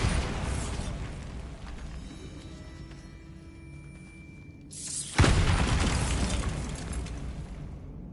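A Bombarda blasting spell goes off in a Harry Potter video game: a low, rumbling ambience builds, then a sudden loud explosion bursts in, followed by a sustained crackling roar of debris.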